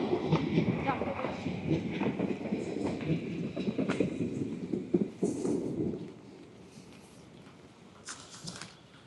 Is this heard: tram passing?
yes